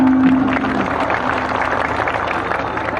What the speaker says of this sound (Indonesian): Tepuk tangan untuk Yaka.